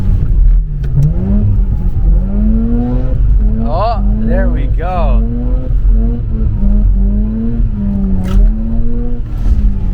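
A Mazda Miata track car's engine revs hard and rises and falls in pitch while drifting, loud and continuous, with people talking over it.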